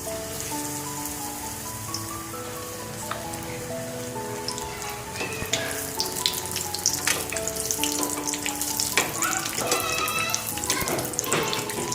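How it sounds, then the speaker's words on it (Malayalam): Egg fritters crackle and sputter loudly in boiling oil, a dense continuous bubbling with bright spattering pops that thicken as more pieces drop in, with occasional clinks of a utensil. "ഇനി മുട്ട ഓരോന്നായിട്ട് തിളച്ച എണ്ണയിലേക്ക് ഇടാം."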